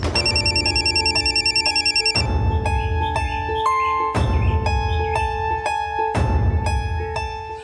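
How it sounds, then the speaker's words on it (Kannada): A telephone rings in repeated bursts, each a bright electronic trill with a low buzzing undertone, four rings in close succession, loud and near, with no talking. "ಅಯ್ಯೋ ಸಾಹೇಬ್ರು ಫೋನು."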